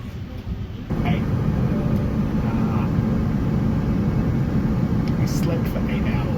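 Steady, loud broadband roar of an airliner cabin in flight on a long-haul Sydney to London trip, a continuous drone with only a faint quieter stretch at the very start.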